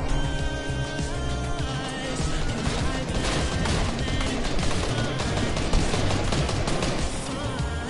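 Dense, continuous video-game gunfire in a Fortnite-style shootout, rapid overlapping shots and bursts sounding loud throughout, with a busy mix of game effects underneath.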